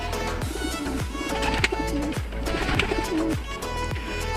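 Several pigeons coo nearby, repeating low, rolling calls at a steady rhythm, overlapping one another and clearly audible without any talk.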